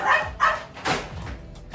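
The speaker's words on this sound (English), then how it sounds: "Excuse the dogs, man." Dogs barking during a backyard BBQ session, several sharp, loud barks close by in an irregular sequence, with no talk over them.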